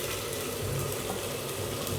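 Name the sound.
fried potatoes added to cooking dal, sizzling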